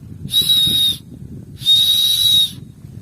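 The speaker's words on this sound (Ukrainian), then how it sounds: "Тут ще є свисток" Two shrill, steady blasts from a small whistle built into a bicycle backpack, each about half a second to a second long, separated by a short pause, loud and close over a low background rumble.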